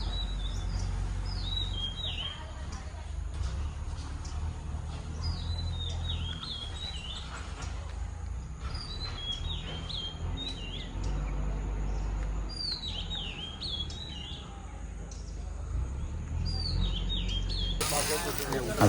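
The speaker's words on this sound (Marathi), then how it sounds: "आणि पक्ष्यांचे आवाज बघा किती येतात." Birds chirp and trill repeatedly in the evening around a quiet Konkan village, bright calls coming every second or two over a low background rumble, with a voice talking softly at times.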